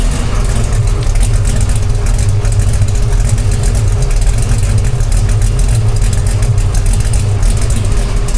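A cold big block Chevy V8 idles roughly through tame mufflers, a steady, continuous low rumble that stays close and loud from start to finish with no talking.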